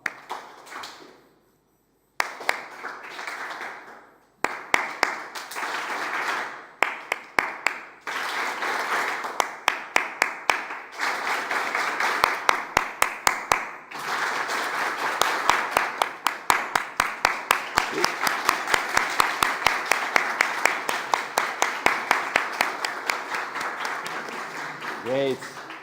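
Audience imitating rain by clapping, starting with sparse single claps and building to dense, continuous patter like a downpour, recorded in a hall with some talk.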